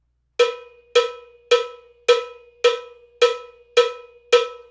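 Steady cowbell groove: eight evenly spaced metallic clanks with bright ringing overtones, loud and close with nothing else around them.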